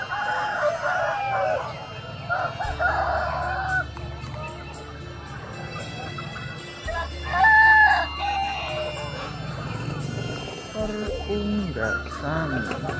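Roosters crow in the poultry section of a traditional market in Pundong, Bantul, with several long crows rising over a steady low market hum and scattered clucks, and faint voices in the background.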